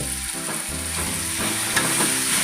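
Tomato paste fries with ginger-garlic paste in a pan for macaroni pasta, giving a steady close sizzle with occasional stirring scrapes and no voices.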